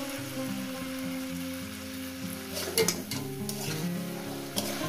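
Cumin and spice mix fry with banana flower in a pan, giving a soft, steady sizzle over a sustained tonal backing. A few sharper stirring clatters come near the middle.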